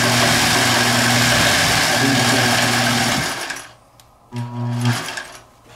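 A sewing machine stitching a suit coat front canvas runs loud and steady with a buzzing mechanical whir, stops briefly, then starts up again for a short second burst.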